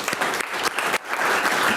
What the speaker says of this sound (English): let's give the center and those that help with this and volunteers a big round of applause.